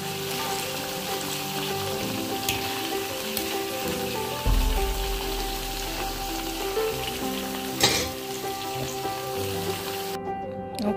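Durian seeds fry in hot oil into crispy chips, giving a steady dense sizzle throughout with a brief low rumble and a sharp clatter partway through.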